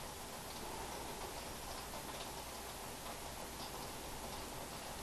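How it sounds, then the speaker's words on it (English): Steady rain falls outdoors, a soft continuous patter and hiss of drops on surfaces with faint scattered ticks, fairly quiet and unbroken throughout. "it's actually raining"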